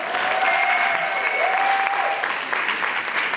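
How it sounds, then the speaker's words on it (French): Standing ovation from an audience celebrating a singer's 70th birthday, steady dense applause with a faint whistle or cheer rising above it, no speech. "je vais vous demander une standing ovation"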